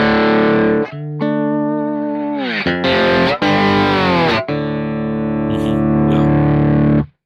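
Distorted electric guitar through a Kemper Profiler with a wah pedal, playing sustained notes and sliding phrases with sweeping tonal shifts, loud and close with no talk.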